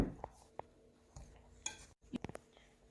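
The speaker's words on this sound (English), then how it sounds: "And now I'm just going to mix this all together" A spoon knocks and scrapes in a bowl while pie crust ingredients with salt and sugar are mixed, giving scattered light clinks and taps with quiet pauses between them.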